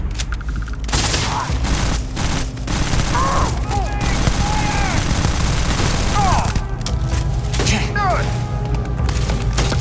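A firefight in Starfield with rapid bursts of gunfire and sharp cracks, some ringing pings and ricochet-like whistles, loud and close, with shouted voices mixed into the combat.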